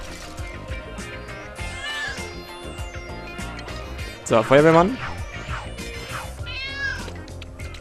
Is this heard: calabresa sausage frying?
no